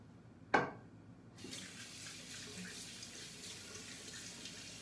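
Tap water runs steadily into a sink to wet a honeycomb badger shaving brush, a sharp knock or splash first, then a continuous close hiss of flowing water for several seconds.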